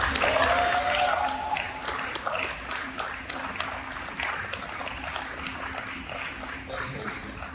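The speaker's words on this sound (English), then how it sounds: "We get one more round of applause for Connor Mccallister." Studio audience applause for Connor Mccallister, a steady wash of clapping that fades slightly over several seconds, with a faint voice and a sustained tone underneath.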